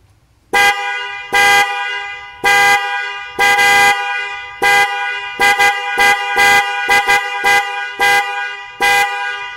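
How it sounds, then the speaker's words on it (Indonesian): A loud DENSO 12V dual snail car horn honks in a rapid series of blasts, some long and some short staccato toots, with a bright harmonic tone and no talking. "kita akan coba tes untuk suaranya ya"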